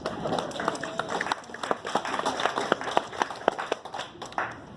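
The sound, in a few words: audience applause at reception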